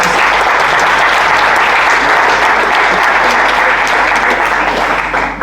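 Audience applause at a HealthWatch Northumberland AGM in Hexham, dense steady clapping from a room of people held at even loudness for about five seconds.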